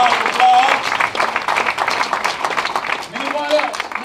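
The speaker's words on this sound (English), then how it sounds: "Give her a round of applause." Audience applause fills a church fundraising gathering in Coldwater, Mississippi, steady clapping from a crowd continuing for several seconds with a voice speaking over it.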